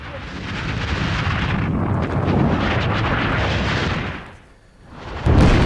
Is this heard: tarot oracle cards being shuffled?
no